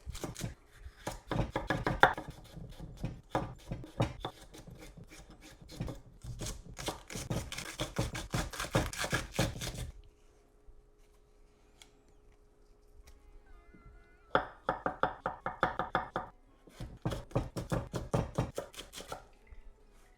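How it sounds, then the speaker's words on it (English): A knife chops washed salad vegetables on a board in a steady, rapid rhythm of close, crisp taps, pausing for a few seconds in the middle before two more quick runs of chopping. "let's chop up the salad"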